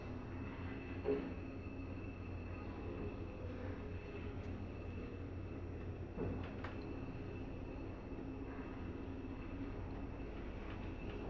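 ZREMB residential elevator in a Szczecin apartment block runs with a faint, steady low mechanical hum and rumble, with occasional soft clicks and knocks from the car and shaft.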